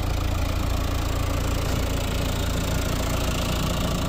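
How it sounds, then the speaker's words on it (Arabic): A 2019 Renault Kadjar automatic idles with its engine running steadily, a continuous broadband hum and rumble that stays at an even level throughout, with no talking. "ديما غادي نسمعوا الموتور"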